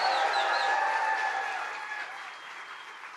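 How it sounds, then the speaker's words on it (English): A crowd at a JD Vance political rally in Traverse City, Michigan, bursts into loud, sustained applause that gradually thins and fades toward the end. "let's give a round of applause for Mike Rogers"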